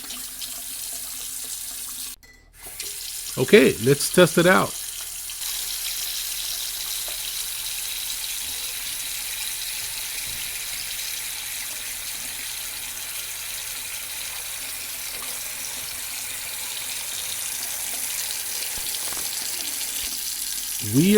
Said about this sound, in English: Now I'm running some more hot water.